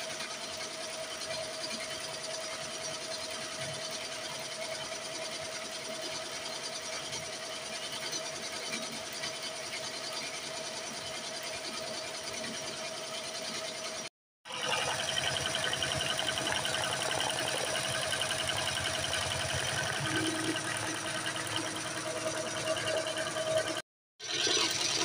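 A BAi Mirror 1501 embroidery machine stitches a car mat at a slow 640 stitches per minute, giving a steady mechanical whir that runs continuously and cuts out briefly twice.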